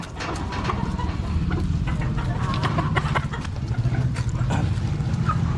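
Chickens in a farmyard pen cluck and chatter steadily while being given feed, with a constant low rumble and scattered clicks underneath.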